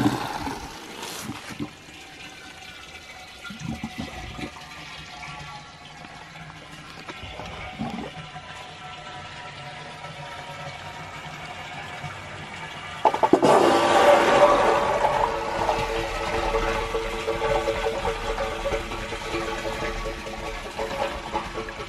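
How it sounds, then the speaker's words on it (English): Water rushing into a micro hydro penstock intake with a Coanda screen manifold, starting as a quiet trickle and swelling into a loud, steady gushing roar as the flow is drawn down the pipe. "I'm gonna open up the penstock and you can hear the sound of the vacuum just suck this water down."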